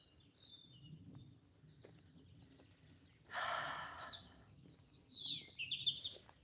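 Birds singing in a forest, sparse chirps and whistles early on, then louder, closer song and calls from several birds overlapping in the second half, with no talking.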